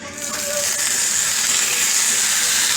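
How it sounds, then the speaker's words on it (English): Artichoke hearts laid face down on a hot grill pan, giving a loud, continuous sizzling hiss that builds slightly and holds steady throughout. "Oh, listen to that sizzle."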